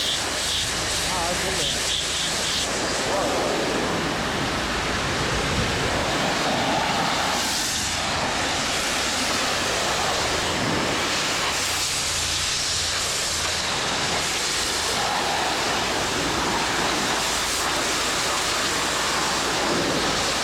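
A pressure washer fitted with a 40-degree rinse tip sprays hard across a house exterior during a full house wash. A loud, dense hiss fills the whole clip without letting up.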